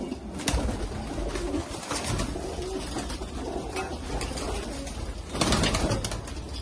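Rajasthani Chapdar desi and Punjabi pigeons coo softly amid a busy outdoor bed of rustling and fluttering, with a couple of louder flaps of wings.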